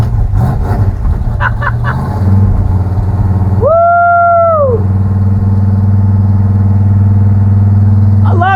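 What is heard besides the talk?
1965 Ford F-250 truck engine starting and running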